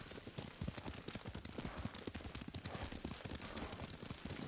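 Horse hooves clip-clopping in a steady rhythmic gallop while riding in the samurai video game Ghost of Tsushima, close and continuous with no talk.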